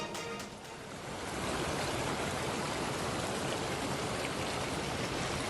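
Water gushes out of cracks in the ground in Joshimath, Uttarakhand, a continuous loud, rushing flow that swells after the first second and then holds steady, with no voices.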